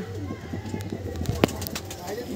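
Madrasi pigeons coo softly close by, a few low throaty calls among faint rustling and background noise.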